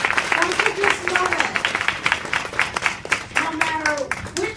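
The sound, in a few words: applause for debate candidates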